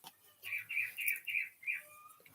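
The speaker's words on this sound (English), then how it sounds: "There's something wrong with one of my birds." Pet birds chirp in a run of short, bright calls, several in a row with brief gaps, fairly close and clear in a quiet room with no talking.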